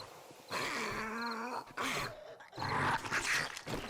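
A zombie dog in the 7 Days to Die survival game lets out a few rough, guttural growls and snarls in separate bursts, close and fairly loud, the last one harsher and noisier.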